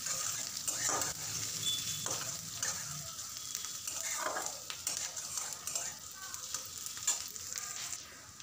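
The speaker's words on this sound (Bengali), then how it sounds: "এবার পেঁয়াজ রসুন সব কিছু একসাথে ফ্রাই করে নেব কিছুক্ষণ" Crushed garlic and onion fry together in a pan with a steady close sizzle and hiss, broken by scraping stirs every second or so.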